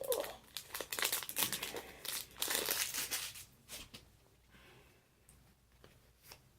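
Plastic wrapping on a Topps Inception football trading card box is cut and torn open, making loud, dense crinkling and tearing up close, then quieter rustling.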